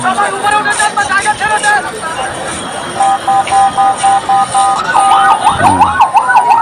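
Ambulance sirens in Dhaka after a plane crash wail loudly in wavering, overlapping tones as vehicles pass one after another, with a crowd's babble and voices underneath.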